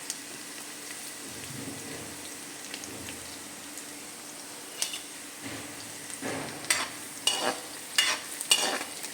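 Garlic frying with fennel and cumin seeds in a pan gives a low, steady sizzle with soft crackles, then a run of louder stirring scrapes and pops near the end, close up and with no talking.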